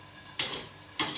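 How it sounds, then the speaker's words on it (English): Vegetables, asparagus and tomatoes, sizzling in a pan for a vegan pesto pasta, heard as two short, faint bursts of hissing sizzle a moment apart, with no talking. "Now the vegetables, I can hear them, beautifully sizzling."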